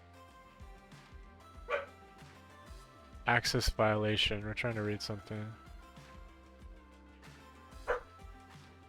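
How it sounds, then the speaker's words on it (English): A dog barks in a quick burst of several loud yaps near the middle, with a couple of single barks before and after, while someone talks over it. "Dog's barking."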